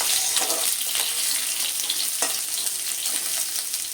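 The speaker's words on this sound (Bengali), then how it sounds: "সজনে ডাঁটাটাও কিন্তু আমি একটু লালচে করে ভেজে নেব" Moringa drumsticks fry in hot oil until reddish for a mixed vegetable curry, a loud, dense, unbroken sizzle close by with a few soft stirring clicks and no voices.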